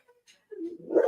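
A dog yips faintly, then breaks into a loud, rising bark-whine at a ringing doorbell, close by and growing more intense toward the end.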